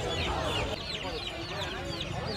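Fancy chickens cluck and squawk at a busy Pallavaram market stall, several birds calling in quick overlapping bursts close by, with vendors talking over the noise.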